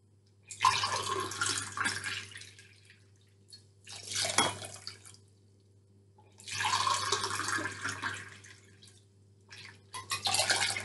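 Water pours into a pot holding two glasses of sugar, three glassfuls in three separate bursts, each a few seconds long with quiet pauses between, under a low steady hum.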